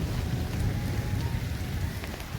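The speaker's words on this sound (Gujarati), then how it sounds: "દોસ્તો, તો આટલો વરસાદ પડે છે." Rain falls steadily and fairly heavily outdoors, making a dense, even patter and wash with no break. No voices can be heard.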